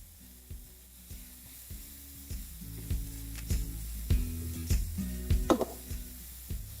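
A pan of chopped ginger and green chilli fries quietly, a soft sizzle broken by repeated scraping stirs and clinks of a utensil in a rough, steady rhythm, fairly close and growing a little louder.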